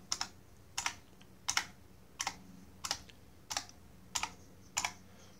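Eight evenly spaced keystrokes on a bolt-modified IBM Model M keyboard, each a crisp, fairly faint click-clack heard close up in a quiet room.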